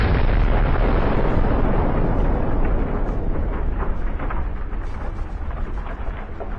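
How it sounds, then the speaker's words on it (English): Heavy, rumbling blast from a tank's ammunition exploding on a battlefield, a deep sustained roar that slowly decays with crackling debris, no voices. "The explosion was so powerful that the tank's turret was blown off."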